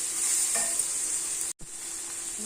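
Steady sizzling of shrimp frying in a hot pan, a continuous hiss with one brief dropout midway.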